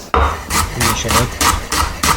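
A knife chops carrots, leek, onion and shallot into fine dice on a cutting board for homemade stock cubes, making steady, close, rhythmic thuds, around seven evenly spaced strikes, with no voices.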